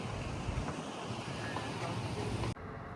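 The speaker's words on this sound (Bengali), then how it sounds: "এত হাওয়া দিচ্ছে আর এত ঠান্ডা" Strong, cold wind gusts roar steadily across an open Seattle waterfront by the sea, a loud broadband rush that buffets the microphone with no voices before dropping abruptly near the end.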